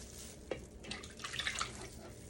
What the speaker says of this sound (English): We'll go ahead and pour that into our mixing bowl.